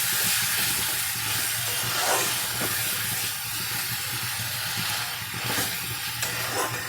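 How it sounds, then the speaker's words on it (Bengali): Chicken and spices frying in a pan on a medium flame give a steady, fairly loud hiss and sizzle that runs continuously, with a few brief crackles. "5 মিনিট এইভাবে মিডিয়াম ফ্লেমে রেখে আমি মশলাগুলো কষিয়ে নেব।"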